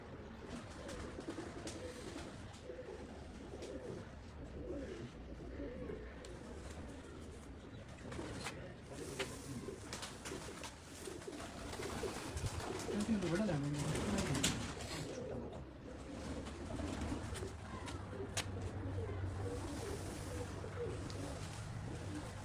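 Soft, low coos from tested Indian racing pigeons repeat through a steady murmur of background noise, with occasional voices and rustling nearby.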